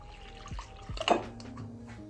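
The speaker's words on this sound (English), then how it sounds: "in a bowl we're going to put our yeast and then add our lukewarm water." Lukewarm water poured into a bowl holding yeast for bread dough, a few soft gulping splashes followed by a short, brighter trickling pour, close and fairly quiet.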